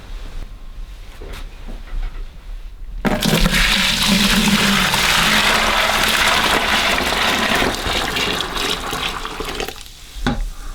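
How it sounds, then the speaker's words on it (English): Boiling water pours and gushes into a bucket outdoors at an off-grid washing setup, a loud continuous splashing rush lasting several seconds after a quiet start, then tapering off. "we're going to take our boiling water and put it in the bucket"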